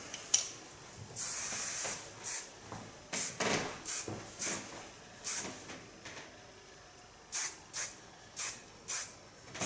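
An aerosol can sprays in a long hiss followed by a series of short, evenly spaced spritzes, close and fairly quiet.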